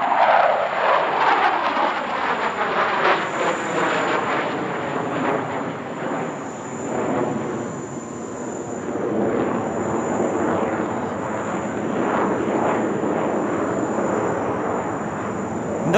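A J-10CE fighter jet performing a flying display at the Dubai Airshow, its engine roar sweeping past loud and continuous, swelling and fading as it manoeuvres overhead.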